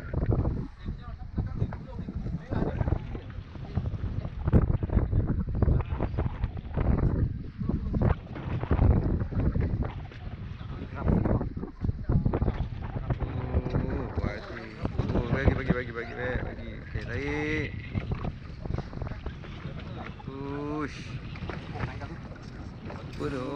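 Strong wind blows at sea beside a small boat, roaring continuously close to the microphone, with water sloshing and people talking intermittently over it.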